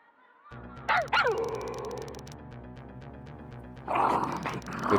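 An angry dog in a Soviet-style horror video game lets out two sharp, close barks followed by growling, then a louder burst of snarling barks later, all over a low, pulsing music bed.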